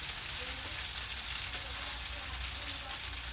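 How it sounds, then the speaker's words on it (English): Pork chops, shrimp fried rice and vegetables frying on a home stove, giving a loud, dense, continuous sizzle that crackles steadily for a few seconds, with a faint voice murmuring underneath. "Y'all hear that sizzle on it?"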